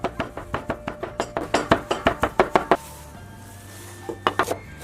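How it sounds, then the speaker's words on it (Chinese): A cleaver minces thinly sliced pork into paste on a cutting board: a fast, steady run of close, sharp chops, then a pause and a few more strikes near the end. "肉切成薄片后剁成肉泥"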